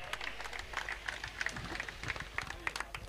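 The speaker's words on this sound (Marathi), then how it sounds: "एकदा मित्रांनो जोरदार टाळ्यांचा प्रतिसाद होऊन जाऊ दे आमच्या या आयोजकांसाठी" An audience at a cricket premier league prize ceremony claps for the tournament organizers. Steady, fairly even applause from a moderate-sized crowd carries through, with some voices mixed in.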